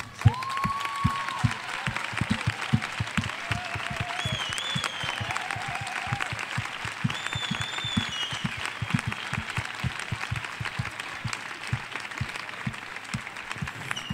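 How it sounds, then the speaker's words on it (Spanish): Audience applause at a feminist event, steady clapping that runs continuously throughout, with a few voices calling out faintly over it. "Un primer aplauso, os haré aplaudir muchas veces"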